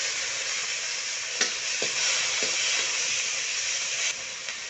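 Onions fry in a pan with garlic-ginger paste stirred in, giving a steady, close sizzle and hiss with a few soft scrapes and taps of a spoon.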